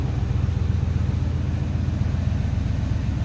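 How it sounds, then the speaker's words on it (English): A 1987 Chevrolet K10 4x4 with a small-block Chevy V8 idles steadily nearby, a low even rumble with a regular pulsing beat. "Good sounding engine. Again, small block Chevy underneath the hood."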